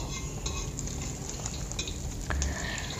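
Food stirred and fried in a wok (kuali) during home cooking for iftar, with steady sizzling, scraping of a utensil against the pan and occasional clinks, close and continuous.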